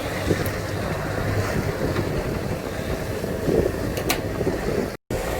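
A sailboat motors at sea under engine power with swell and wind, giving a steady low broadband rumble and hiss mixed with wind noise on the microphone, a brief dropout near the end.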